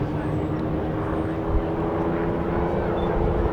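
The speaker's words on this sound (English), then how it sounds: "The last of the Merlin-powered Spitfires" A Merlin-powered Spitfire at the Scottish Airshow 2015 gives a steady, fairly loud propeller-engine drone from a mid distance, continuous throughout with a faint hum of the crowd beneath it.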